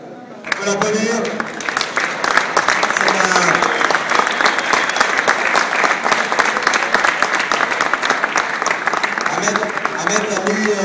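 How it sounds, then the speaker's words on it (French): Spectators at a race event applaud the winner, with dense sustained clapping starting abruptly and continuing while an announcer's voice talks over it at times. "on peut l'applaudir."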